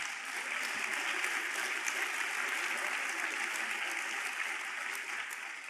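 A large audience at a closing keynote session applauds in a steady, even wash of clapping heard from some distance, holding at constant strength throughout.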